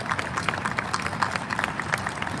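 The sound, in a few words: round of applause from the audience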